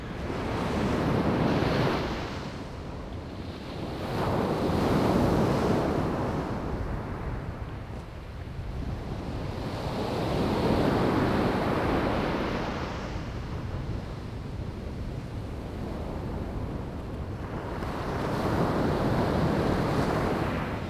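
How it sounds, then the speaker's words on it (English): Ocean waves surge onto the beach at Mablethorpe at sunset, each roll of foamy surf swelling and drawing back about every five seconds, steady and fairly close, with wind rushing over the microphone and no talking. "as the wave comes in, there's a nice rolling bit of foam, and then it goes back in again."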